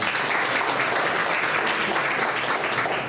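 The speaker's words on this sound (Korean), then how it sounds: "다시 한번 박수하겠습니다" Congregants at a church presbytery New Year gathering give a round of applause, a steady crowd of clapping hands at moderate volume throughout.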